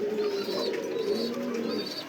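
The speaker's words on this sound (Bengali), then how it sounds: "রানিং পেয়ার, রেস করা কবুতর" Racing pigeons on a pigeon farm giving soft, throaty coos in a rolling, repeated pattern, close by and moderately loud against a faint background hum.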